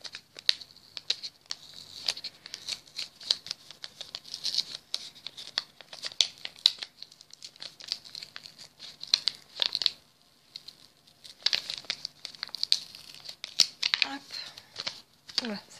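A heart-shaped sticker peels slowly off a paper envelope, with soft crinkling, tearing and scratching close to the mic in short bursts, while someone speaks quietly.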